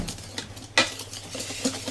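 Butter being worked into chocolate madeleine batter with a utensil, making soft wet scraping and stirring sounds, close and steady, with one sharper knock against the bowl partway through and a couple of lighter taps after.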